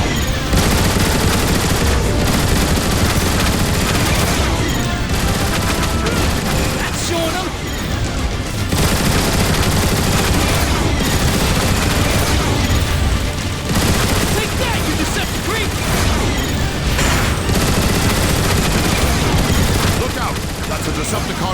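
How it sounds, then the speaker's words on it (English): Turret gun emplacements in the Transformers: War for Cybertron game fire loud, sustained bursts at Decepticon Seekers, with booms and mechanical clatter layered over a dense, continuous battle din. "I think you can take them out with the gun emplacements!"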